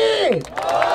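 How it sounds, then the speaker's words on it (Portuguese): Audience at a Brazilian rap battle in Barueri clapping and cheering for a competitor after a round, fairly loud crowd noise with a voice sliding over it briefly. "palmas pro Basque aí, família"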